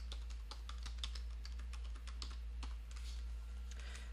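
Quiet, irregular clicking of keys on a computer keyboard as a password is typed, with steady low hum in the background and no speech.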